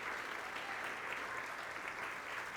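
Steady applause from a congregation in a church, honoring a woman's life: continuous dense clapping at a distance, even and sustained throughout with no voices.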